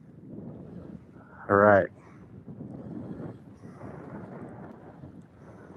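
Gusty wind buffets the microphone outdoors on a waterside catfish-fishing outing, a steady low rumble running through the whole stretch, with a brief spoken phrase cutting in near the start.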